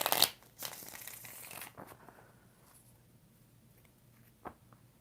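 A deck of tarot cards is shuffled up close, a brief riffling rustle at the start followed by softer card slides and light taps that fade toward quiet.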